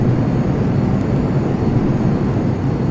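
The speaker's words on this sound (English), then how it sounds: "Let's see if I remember how to do the afterburners." F-22 afterburners roar in the Prepar3D flight simulator game, a steady, loud, dense engine rumble that holds without a break and has no talk over it.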